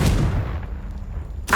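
A loud fiery blast from the Confringo spell in Hogwarts Legacy opens with a booming burst that rumbles away and decays, then a second sharp burst hits right at the end.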